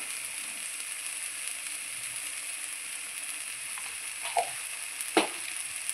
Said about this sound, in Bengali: লবণ আর হলুদ দিয়ে আমি খুব সুন্দর করে খানমান পাতা বাটাটা কষিয়ে নেব।